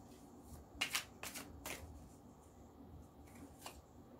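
Tarot cards are shuffled and drawn by hand, giving several quiet riffling bursts and soft snaps, close but faint, with no talking during them.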